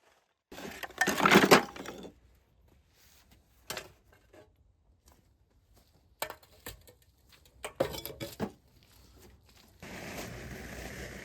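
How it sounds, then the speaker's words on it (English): Broken tiles are smashed into hardcore in a courtyard garden, a loud crash with clinking fragments followed by scattered knocks and further rattling breaks, irregular and close, with no talking. "So the broken tiles will get smashed up here to use as hardcore when we lay a path down here."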